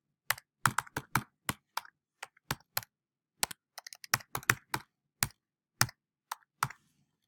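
Someone types a password on a computer keyboard, with about two dozen crisp, close key clicks in quick uneven bursts and short pauses between them, and no talking.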